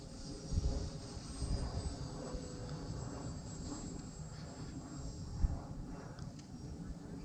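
A small electric Tower Hobbies Cherokee EP RC airplane flies in gusty wind, its motor a steady thin whine with a high tone carrying throughout, heard at moderate distance over wind rumble.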